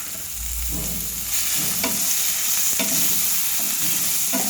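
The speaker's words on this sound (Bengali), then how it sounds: "আলুগুলোকে নেড়ে ভেজে নিচ্ছি। এরপর টমেটোগুলো দিয়ে দিলাম।" Potatoes and tomatoes fry in a pan with a steady sizzle while a utensil stirs and scrapes, giving a few sharp clinks against the metal over the continuous frying hiss.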